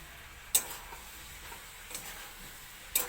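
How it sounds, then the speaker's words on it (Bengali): Potato and tomato vegetables with ground spices are stirred in a pan over a faint low sizzle, with three sharp spoon clicks against the pan spaced about a second apart. "এখানে গুঁড়া মশলা ভালো করে মিশিয়ে নেব"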